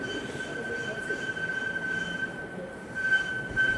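Brakes on a JOBOBIKE Romer Pro electric bike squeal in a thin, steady high-pitched whine that holds for several seconds, with rolling noise underneath.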